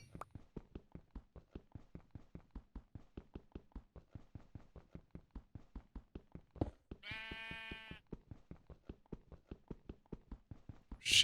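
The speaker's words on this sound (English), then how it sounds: "Sheep around, that's good." A sheep bleats in Minecraft with the Better than Wolves mod: one clear, wavering bleat stands out midway against a quiet background, while steady rhythmic footstep taps run the whole way through.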